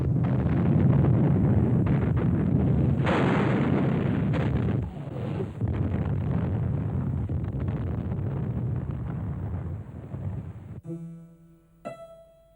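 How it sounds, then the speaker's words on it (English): Artillery guns pounding a devastated city during the final push on Berlin, a dense continuous roar of heavy rumbling blasts and wind-buffeted noise that thins out near the end. "All day long, the guns pounded, churning up the rubble of this already devastated city."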